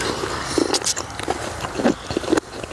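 Close crunchy bites and chewing of field snails, a few sharp cracks spaced irregularly over a noisy, close-miked background.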